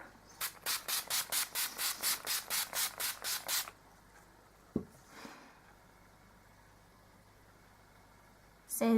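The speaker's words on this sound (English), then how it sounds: "I'm going to go with Urban Decay All Nighter Setting Spray" Urban Decay All Nighter Setting Spray is misted in a rapid series of about thirteen short, even hissing pumps, followed by quiet rustling and a faint tap.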